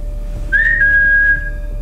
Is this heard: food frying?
no